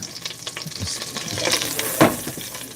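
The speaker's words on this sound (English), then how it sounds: "I'm gonna cook off our chicken a little bit." Chicken pieces sizzle and fry in a pot on a home stove, a close, steady crackle broken by clattering stirs and scrapes, one louder scrape near the end, with no talking.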